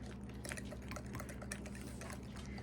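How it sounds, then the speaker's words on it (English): A dipping sauce for potatoes being stirred quickly in a bowl, with soft wet clicks and sloshing, close and quiet, and no talking. "I'm just going to mix this real quick."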